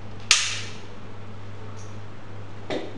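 A Glock 17 pistol gives a single sharp metallic snap on a dry-fire control trigger pull, close and loud, then a fainter mechanical click a couple of seconds later.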